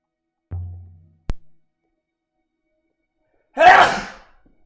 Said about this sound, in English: Watch out. Incoming sneeze!